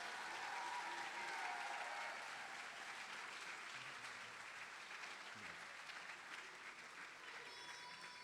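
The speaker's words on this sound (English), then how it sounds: "how about one more big round of applause for all of our" Faint, distant applause from an audience at an awards ceremony honoring MVPs, a continuous wash of clapping held at an even level throughout with no standout claps.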